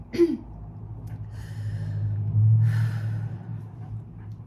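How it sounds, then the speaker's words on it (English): A deep, audible breath drawn in slowly and let out, near and alone with no talk, following a brief sharp intake at the start. "I'm gonna take a deep breath"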